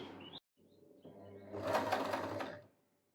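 A sewing machine with a buttonhole foot stitches a buttonhole. After a brief pause it runs a short, quick burst of rapid mechanical stitching, close up, then stops.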